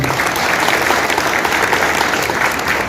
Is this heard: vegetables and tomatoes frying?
no